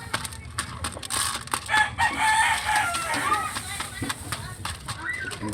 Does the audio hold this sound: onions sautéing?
no